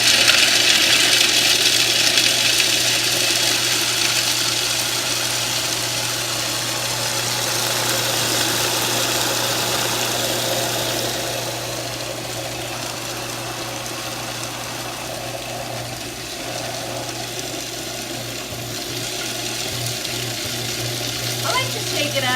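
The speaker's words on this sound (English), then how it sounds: "this time I properly secured my food processor, so we're ready to go" A food processor blending cashews into vegan cheese, a loud continuous whirring motor that runs steadily throughout with slight shifts in pitch as the mixture moves.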